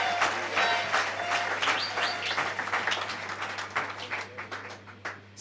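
An audience at a church service applauds in a dense, steady burst of clapping that gradually thins out, with brief cheers mixed in.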